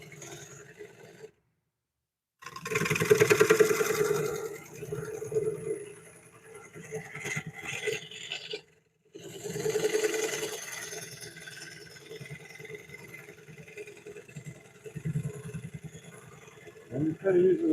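A wooden bowl spinning on a woodturning lathe while a carbide tool cuts it, giving a steady rough scraping hum with gaps where the tool lifts off, under intermittent talk.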